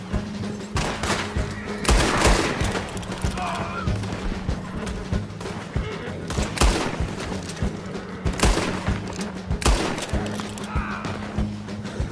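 Gunfire in the Red Dead Online video game, loud close shots and bursts spread across the stretch in irregular volleys with heavy booms, some brief game noise between them and no clear talk.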